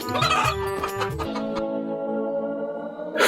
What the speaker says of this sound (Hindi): ये मुर्गी नहीं, मुर्गा है